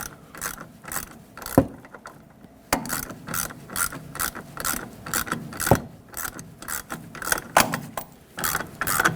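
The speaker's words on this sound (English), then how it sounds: "Use that same 19mm socket, tighten this up." A hand ratchet with a 19mm socket tightens the shock absorber nut on a 2011-2016 Ford F-350 Super Duty truck, giving a close, loud, rhythmic series of rapid clicking bursts with brief pauses between strokes.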